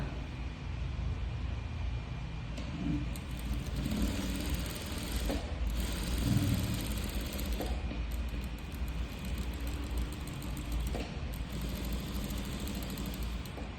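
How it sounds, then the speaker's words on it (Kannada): A sewing machine stitching a crop top, with the lining edge on canvas fabric, runs as a steady, even mechanical whir with a low motor rumble. It continues close and unbroken, with no voices. "ಈಗ ಇದಕ್ಕೆ ನಾನು ಸ್ಟಿಚ್ಚನ್ನು ಹಾಕ್ಕೊತೀನಿ ಈಗ ನೀಟಾಗಿ ಸ್ಟಿಚ್ ಹಾಕ್ಕೊಂಬಿಡೋಣ"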